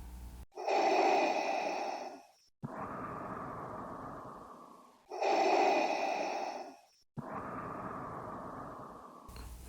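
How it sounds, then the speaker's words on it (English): Heavy, slow breathing of a ghostly villain: two deep cycles, each a long harsh inhale followed by a long raspy exhale, close and loud against silence. "only one thing that you can hear from it: breathing."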